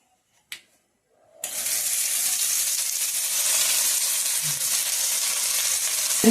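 Hot oil tempering poured onto chutney hisses and sizzles steadily after a quick clatter, a broad crackling fizz that continues without pause.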